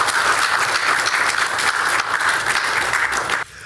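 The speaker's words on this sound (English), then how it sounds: "you deserve the warm applause and commendation of the entire nation of Ghana." Warm, sustained applause from a studio audience on a Ghanaian morning talk show, dense and steady for over three seconds before dropping sharply in level near the end.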